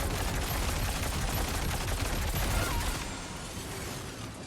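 Rapid gunfire bursts in a video game rattle continuously for about three seconds, loud and dense, then cut to a quieter hum.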